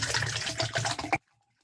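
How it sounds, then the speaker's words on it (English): Water runs steadily into a container for about a second, a broadband rushing splash, close and fairly loud, before cutting off abruptly into silence. "Started filling up my water."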